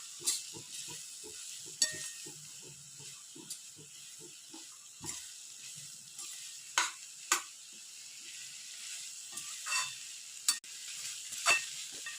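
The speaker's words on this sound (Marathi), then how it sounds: "हे बघा छान अशी परतायची, वाफ काढायची" Ivy gourd and dried shrimp being stir-fried in a pan, a soft steady sizzle under repeated scraping and stirring strokes of a spatula, close and fairly quiet, with no talk.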